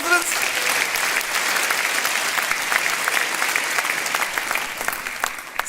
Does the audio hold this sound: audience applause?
yes